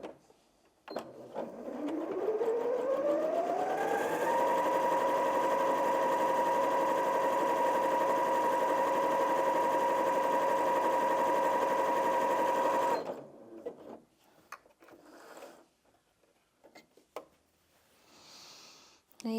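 Janome M50 QDC sewing machine stitching a zigzag, its motor whirring up in pitch and then holding a steady, fast rattling hum for about nine seconds before stopping, followed by faint handling noises.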